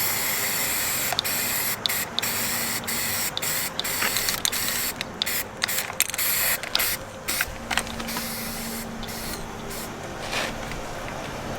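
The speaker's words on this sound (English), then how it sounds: "black spray paint" A black spray paint can hisses in repeated bursts of light coats on an E-11 blaster replica, short presses broken by brief pauses, close and loud with a faint rattle between sprays.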